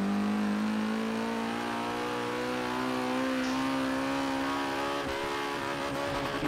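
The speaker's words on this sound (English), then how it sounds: "He's on the rev limiter." A drift car in the Game of Drift video game holds a loud, steady high-revving engine note, rising slightly and buzzing against the limiter, near and continuous with no talking.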